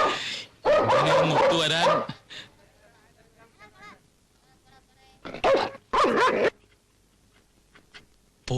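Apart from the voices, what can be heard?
dogs barking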